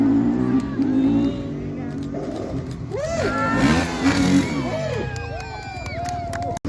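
Crowd cheering and whooping at a motorcycle jump display at an agricultural show on Anglesey, rising over a revving engine and continuing through most of the stretch.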